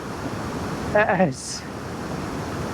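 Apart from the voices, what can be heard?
waterfall rushing water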